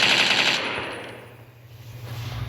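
Rapid automatic gunfire in Minecraft with the TacZ gun mod, a loud burst that fades and then rises again.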